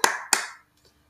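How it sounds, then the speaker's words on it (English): Two sharp hand claps about a quarter second apart, close and dry, used as body percussion, each decaying quickly before near silence with a faint tap at the end. "an example of body percussion would be clapping"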